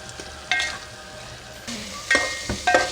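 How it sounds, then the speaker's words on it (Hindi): Barbecue keema, minced meat, fries over high flame with a steady background sizzle punctuated by several sharp spatula scrapes and clanks against the pan in quick succession. "ये देखिए माशाल्लाह से हमारा बारबेक्यू कीमा भुन के तैयार हो गया"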